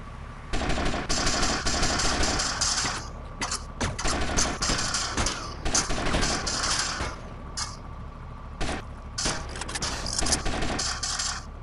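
Gunfire in GTA Vice City rattles in rapid bursts of automatic shots, with short pauses between volleys and a few isolated single cracks, dense and constant at moderate level with no talk.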